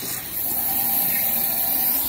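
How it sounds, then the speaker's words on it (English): Hot water runs through a rinse kit in a steady, close, continuous hissing spray at constant loudness, with no voices. "And then you would turn the water on."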